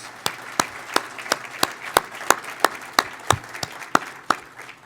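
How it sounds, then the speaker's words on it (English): Sparse applause at an annual charity meeting, a few people clapping in slow, uneven rhythm with distinct separate claps, moderately close and fairly quiet, nothing else heard. "let's give them a round of applause,"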